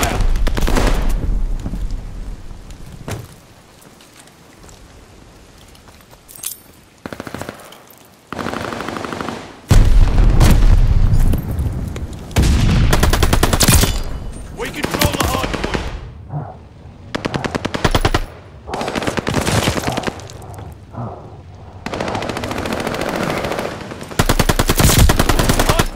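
Loud bursts of machine-gun fire and rapid gunshots fill a video game battle over a contested hardpoint, coming in dense volleys with short lulls, some booming impacts mixed in, and brief radio-style voice callouts now and then.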